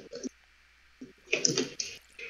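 Water poured onto lava in a video game, heard as short sizzling, splashing bursts separated by quiet gaps, with a longer hissing surge near the middle.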